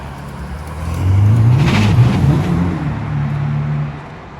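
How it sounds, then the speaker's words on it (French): Ferrari SF90 hybrid accelerating past: a rising, close engine roar swells to a peak, then recedes as it drives by, with an electric whir blending into the engine note. "quand il a accéléré, ça a fait un bruit vraiment de... à la fois de V8 et d'hybride"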